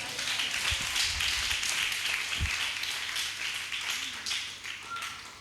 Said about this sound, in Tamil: விசுவாசிக்கிறவங்க நல்லா கைத்தட்டுங்க.